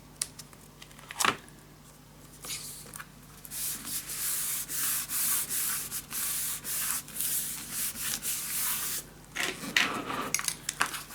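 Paper is burnished down into scrapbook corners with a series of close, dry rubbing strokes in a quick, steady rhythm. A few sharp taps come before the strokes and among them.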